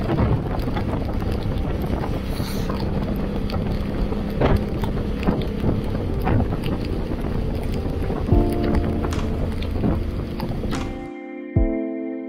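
Heavy rain and strong wind roar steadily while riding through a storm in Costa Rica, a dense, continuous wash of noise that cuts off abruptly near the end.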